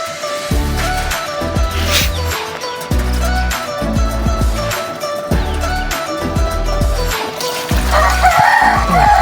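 Chickens and chicks call in a coop, with steady clucking and crowing-like calls close by and other birds chirping in the background.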